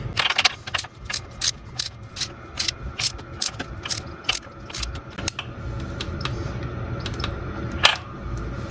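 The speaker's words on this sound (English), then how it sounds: "This has got to be done up to 35 Newton meters. And my torque wrench is set to 35." A torque wrench ratchets a bolt tight on a VW Polo 1.2 TDI, giving a close, steady run of sharp metallic clicks in a quick, even rhythm with a slight grinding underneath.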